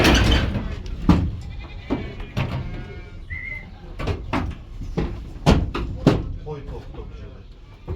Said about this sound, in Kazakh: Қой тоқты.